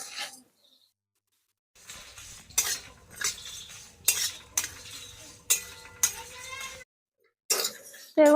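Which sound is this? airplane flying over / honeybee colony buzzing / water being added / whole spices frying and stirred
whole spices frying and stirred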